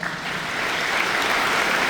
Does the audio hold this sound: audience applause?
yes